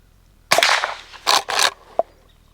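Four muffled gunshots from a pistol with a JMac Customs Banka suppressor: two close together, then a pair, and a final short crack, each a dull thump with a brief tail.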